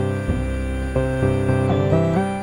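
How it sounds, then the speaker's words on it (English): A Motorsynth Mk2 synthesizer plays a basic pluck patch built from square, saw and sine waves. It gives a short run of loud, clear plucked notes with no talk. "So we've got a really basic pluck sound to start with."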